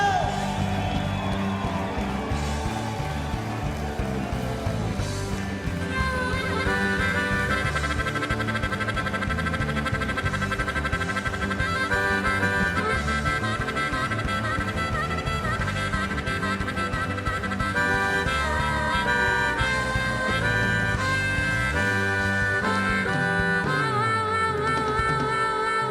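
A packed arena crowd at a political convention roars steadily throughout, screams, whoops and cheers blended into a loud continuous wall of noise over booming music.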